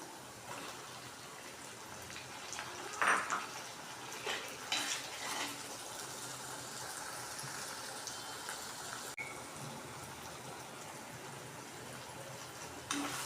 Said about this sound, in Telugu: ఇప్పుడు టమాటాలు వేస్తున్నాను